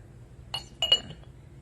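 Amber Fostoria coin glass lidded piece being handled, giving two or three light, bright clinks of glass on glass over a quiet room hum, with no talking.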